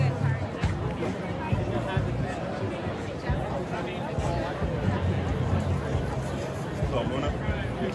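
Dense crowd babble at a downtown Portland, Oregon gathering, a steady wash of many overlapping voices close by with no single sound standing out, lasting the whole stretch.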